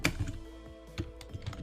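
Computer keyboard keys clatter in a quick, uneven run of close clicks, with a few sharper strikes standing out over a low background.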